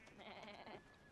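A single soft sheep bleat from a farm scene in The Last of Us episode 6, faint and lasting about half a second, with a quiet background.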